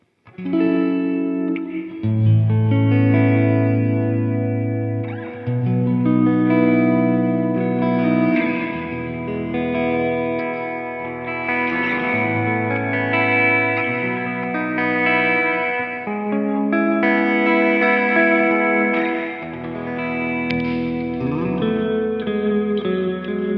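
A Valiant Jupiter Offset electric guitar rings out chords and melodic notes through a wash of reverb, sustained and bright, loud and continuous with no talking.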